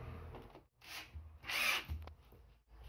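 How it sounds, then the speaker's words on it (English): A cordless drill drives into a wooden stud frame being built for a vocal booth, its battery running low: two short, loud whirring bursts close by, separated by brief pauses, with no talking. "Let's see if the drill can stand another bout like that."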